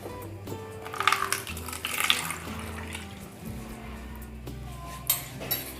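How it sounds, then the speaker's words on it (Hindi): A little water poured into a pan of restaurant-style mixed vegetables: a soft splashing pour with a couple of louder gurgles, set against quiet kitchen noise. "थोड़ा सा पानी ऐड कर रही हूँ"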